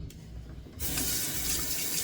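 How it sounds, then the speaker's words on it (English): Tap water starts running strongly partway through, a steady close gush into a sink or basin as hair is wetted, continuing unbroken to the end with no talk. "just gonna wet my hair a little bit so it waves up"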